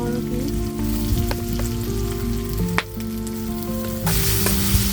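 Ginger and garlic sizzle steadily in hot oil for a pork and bamboo shoot dish, a loud, constant frying hiss close by with a faint tonal hum underneath and no talking.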